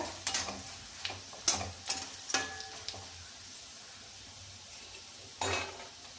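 Potato poha ingredients frying in a pan, a soft sizzle under a handful of sharp scraping and clinking stirs from a metal spatula, close and quiet, with a final scrape after a brief pause.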